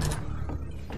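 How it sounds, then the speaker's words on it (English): A Half-Life 2 door slides open with a mechanical rumble and a few soft clunks, lasting about a second and heard close up without any talking. "now the door opens."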